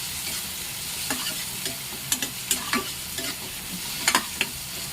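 Onions, tomatoes and chilies fry in oil in a pan, giving a steady loud sizzle broken by sharp scraping strokes of a spoon stirring the mixture, with no one talking.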